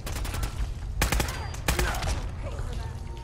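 Rapid bursts of gunfire in Fallout 4's Nuka World, loud and close, with clustered volleys and sharp single shots rattling over a couple of seconds.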